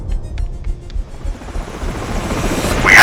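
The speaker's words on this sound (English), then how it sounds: "Chopper blades. Loud. Right outside." Helicopter blades beat right outside in a Batman motion comic, a low rhythmic chop that rises steadily to a loud, close roar by the end.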